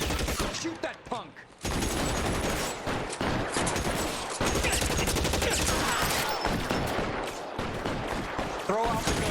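Gunfire in the L.A. Noire video game, loud rapid bursts of shots crowding together in dense volleys, with voices shouting over the shooting.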